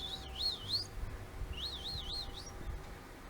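A hawk gives repeated thin, wavering high-pitched whistling calls in two separate bursts, clear over a quiet outdoor background.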